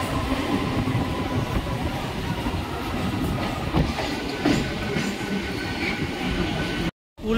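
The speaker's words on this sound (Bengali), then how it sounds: "উলবেড়িয়া স্টেশনে আমাদের দীঘা লোকাল ঢুকে গিয়েছে।" Inside a Digha local train running through Uluberia station, a continuous rumble of wheels and carriage noise fills the clip with faint rhythmic clacks, cutting out abruptly near the end.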